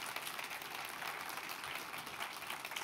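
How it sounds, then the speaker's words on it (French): Audience applause fills the room after a French-language conference talk on continuous delivery metrics, a steady dense clapping that holds for about three seconds with no voices over it. "Je prends les applaudissements avant"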